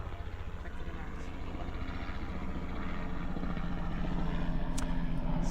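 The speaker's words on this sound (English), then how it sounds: "So we have a helicopter surveillance here, if you can hear this." Surveillance helicopter passing over a European Championship qualifier baseball game between Slovakia and Hungary, a steady low rotor drone that grows slightly louder across the stretch, heard through crowd ambience with no one talking.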